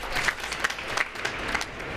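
Audience applause at a World Bank infrastructure event on broadband in Africa, a steady wash of clapping from a crowd that holds even for about two seconds.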